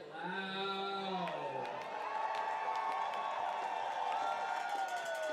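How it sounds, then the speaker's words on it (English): Crowd at a baseball game between the Portland Pickles and Springfield Drifters at Walker Stadium, a steady roar of cheering that swells and holds loudly throughout, with whoops rising over the din. "Crowd starting to come to life here."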